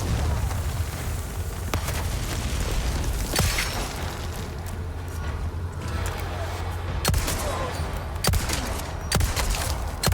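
Grenades burst in Resident Evil 4's village fight, several sharp booms landing at irregular intervals among continuous gunfire and game noise, with a voice talking over parts of it.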